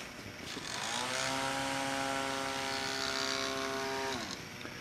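A small electric fan motor spins up and holds a steady, rising-then-level whine for about four seconds while pushing air in a torque demonstration, then winds down; the tone is close and fairly loud, with no talking.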